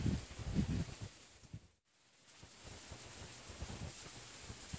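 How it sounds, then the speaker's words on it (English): Outdoor wind gusts during a hands-free solar ignition with a wallet Fresnel lens and concave mirror, a broad steady rush that swells loud, drops to near silence briefly, then returns as a continuous moderate blow with no talk. "Every time I say that, the wind starts to blow harder."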